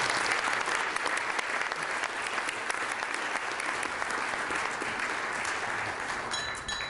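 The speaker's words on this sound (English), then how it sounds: "please join me in a round of applause for Les and his." An audience at an annual association meeting gives a steady round of applause, dense clapping that holds at an even level from start to finish with no talk over it.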